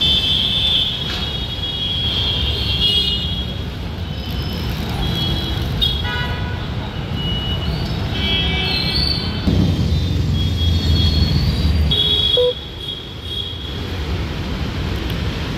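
Busy road traffic jam in Hyderabad near the Golnaka–Amberpet flyover works, a steady rumble of idling and crawling vehicles with several horn toots standing out, some near, others farther off.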